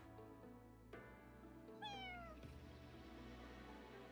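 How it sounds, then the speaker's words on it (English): A cat meows in the video game Fire Emblem Engage, one clear rising-then-falling meow standing out over steady game music, fairly close and distinct, with no voices. "We got a cat?"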